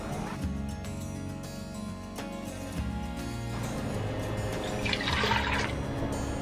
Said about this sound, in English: I'm gonna add about 4 more cups of water from the sink